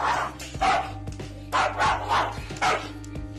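A dog barks repeatedly at a rooster, loud and close. Sharp barks come in uneven bursts, with a low steady hum underneath.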